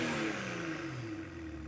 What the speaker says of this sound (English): let's take a listen to what these dual exhausts sound like.